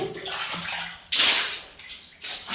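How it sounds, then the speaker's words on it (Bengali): Hot water pours and splashes into a bucket for bathing, a loud continuous rush with surging bursts as the stream shifts, close by and without speech. "এই জলগুলো নিয়ে আমরা এই যে এই বালতিতে ঢেলে ঢেলে রাখছি"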